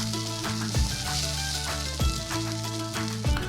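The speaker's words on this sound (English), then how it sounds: "In a hot pot, I'm going to add a little bit of olive oil and my onions" Onions crackle and sizzle in olive oil in a hot pot. A close, steady frying hiss sits under repeated tonal musical phrases that recur every second or so.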